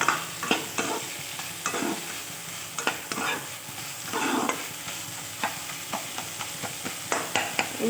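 Beetroot greens being stirred and fried in a pan on a gas stove with a sprinkle of sugar, giving a soft steady sizzle broken by repeated sharp scrapes and clacks of the spoon at an uneven rhythm.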